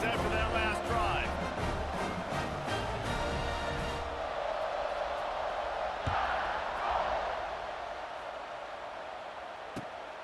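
A stadium crowd in the EA Sports College Football 26 video game roars steadily through the whole stretch. The cheering is dense and loud at first, then eases slightly, with a commentator's voice over it and a couple of sharp thumps.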